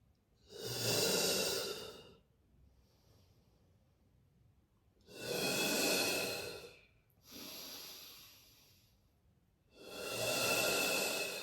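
Slow, deep breathing during a foam roller exercise: three long, loud airy exhalations a few seconds apart, with a fainter breath between them, close to the listener and with no speech.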